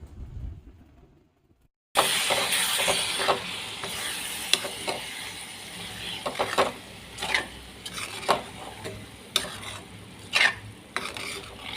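After a brief quiet start, a spoon scrapes and stirs a thick star fruit and spice paste in a pan in repeated rhythmic strokes over a soft sizzle, with no voices.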